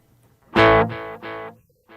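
Guitar through an Elevate effects pedal on a ping pong delay setting: a loud struck note followed by two fading repeats bouncing in quick succession, then another note starting.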